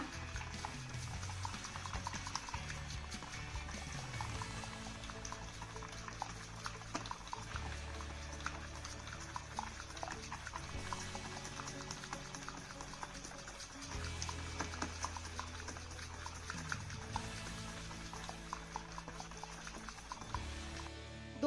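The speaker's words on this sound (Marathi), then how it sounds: "आता हे पीठ आपल्याला दोन मिनिटं छान असं फेटून घ्यायचं" Batter whisked by hand in a bowl makes a quiet, continuous wet slapping and patter with a steady rhythm, close and soft, and no one speaks over it.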